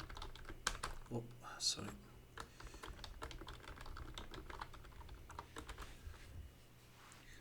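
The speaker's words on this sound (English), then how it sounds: "I'm going to type again my password." Someone types a password on a computer keyboard in a quick, close run of light key clicks, with a brief spoken apology near the start.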